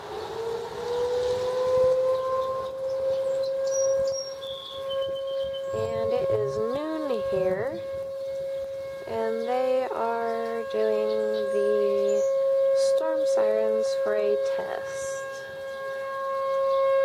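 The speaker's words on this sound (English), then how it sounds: "The storm sirens are done blaring at me" Storm warning sirens wail continuously outdoors, a loud sustained tone with rising and falling sweeps layered over a steady drone, lasting throughout.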